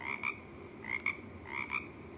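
Small frogs croaking in a steady outdoor chorus, paired bright calls repeating roughly every 0.7 seconds at a moderate distance, with no voices.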